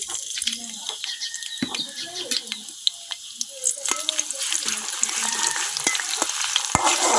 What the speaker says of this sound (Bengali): এদিকটা কিন্তু আমার তেলও গরম হয়ে গেছে, এখন তেলের মধ্যে দিয়ে দিতেছি কেটে রাখা পেঁয়াজ